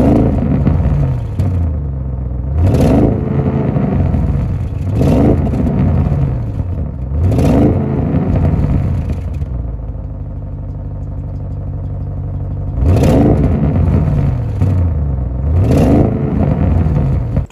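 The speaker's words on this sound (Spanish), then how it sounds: "el sonido Sport se activa cuando se abre esa válvula y va más a escape libre" An Audi RS 6 Avant with its sport exhaust valve open, revving loudly and close in repeated bursts that rise and fall in pitch, with a deep rumble between them and no talking.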